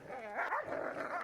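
A dog barks and yips indoors, a few quick, close, fairly loud barks with whimpering tones mixed in, heard alone.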